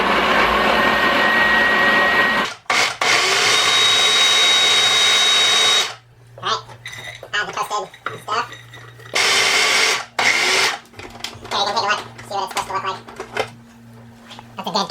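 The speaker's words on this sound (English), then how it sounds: "Okay, I grind my garlic, and then I'll add the toasted pecans, walnuts" A blender or food processor grinds garlic, toasted pecans and walnuts into pesto, loud bursts of whirring cut by pauses and shorter pulses, with a voice talking in the quieter gaps.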